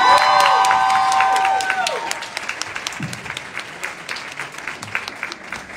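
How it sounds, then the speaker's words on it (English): An audience at a business summit gala breaks into applause and cheering, starting loud over a fading sustained tone, then thinning into scattered claps with crowd murmur. "Another round of applause, please."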